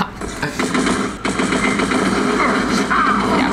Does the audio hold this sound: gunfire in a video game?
yes